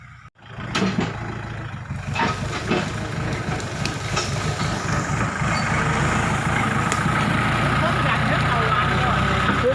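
A large tractor clearing overgrown grass: a loud, steady low engine rumble and clatter builds in and runs throughout, close by, with a voice partly over it.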